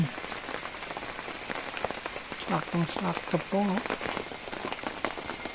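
Heavy rain pours steadily in a dense hiss on a mountain, with a person speaking briefly in Filipino over the downpour.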